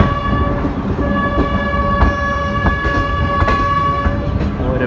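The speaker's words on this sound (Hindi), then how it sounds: "अभी आपने मेलोडियस विसल सुना" A melodious horn whistle from a train at a railway station sounds in long sustained tones over the steady rumble and clatter of rail cars, loud and close, with no talk.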